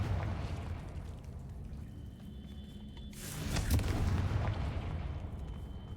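Confringo spell explosions in the Hogwarts Legacy video game: rumbling booms over a constant low roar, with a larger burst swelling in the middle and fading back to the rumble.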